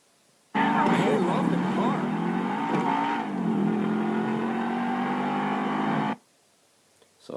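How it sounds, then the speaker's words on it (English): A racing car engine in Grand Theft Auto roars loud and steady for several seconds, its pitch shifting as it accelerates, then cuts off abruptly. "racing Lamar for a while"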